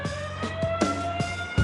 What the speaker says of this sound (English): A siren warns everyone to take cover.